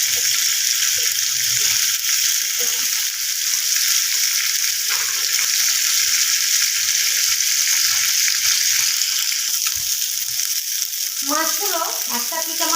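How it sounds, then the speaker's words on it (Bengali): Bhetki fish pieces fry in hot oil on a lowered gas flame while being turned. A loud, dense, continuous sizzle runs close throughout, and a voice briefly breaks in near the end. "আমি গ্যাসটা কমিয়ে একটু উল্টে পাল্টে মাছগুলোকে ভেজে নেব।"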